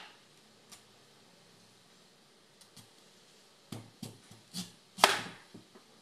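A knife slicing radish for pickles, several crisp cuts landing in quick succession after a quiet start, close and fairly soft.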